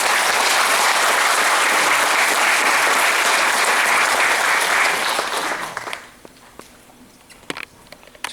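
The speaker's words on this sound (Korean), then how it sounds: "큰 박수로 환영해 주시기 바랍니다." A large crowd at a redevelopment association's extraordinary general meeting breaks into loud, dense applause that runs steadily for about six seconds, then stops abruptly, leaving a few scattered claps and light shuffling in a quieter room.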